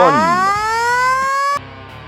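A loud electronic siren on a Land Cruiser fire truck wails upward in a rising sweep for about a second and a half, then cuts off abruptly, leaving a low hum.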